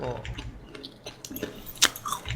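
Crunchy chewing of crispy fried chicken skin, close and intermittent, with a few sharper bites scattered over a couple of seconds.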